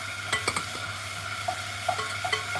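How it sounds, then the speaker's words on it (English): Spoon stirring dry cookie ingredients in a bowl, soft scraping and a few light taps at close range over a quiet steady background. "Give that a stir."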